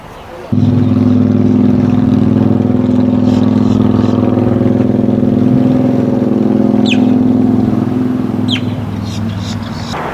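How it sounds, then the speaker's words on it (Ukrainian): A steady, loud engine drone runs throughout, a low rumbling boat motor holding constant pitch on water in Florida alligator country, with faint chirps near the end. "Це така тут машина є, що бігає по воді."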